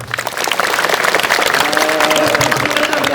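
Students at a junior high school event applaud together, with dense, loud clapping from a crowd that builds quickly and holds steady throughout. A voice or two rises faintly beneath it.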